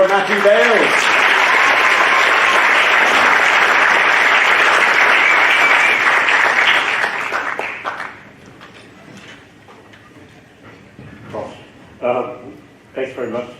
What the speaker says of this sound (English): Could you please give a massive round of applause for Matthew Bales?